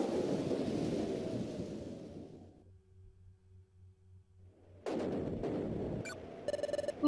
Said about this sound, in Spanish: Vaya, menuda tormenta.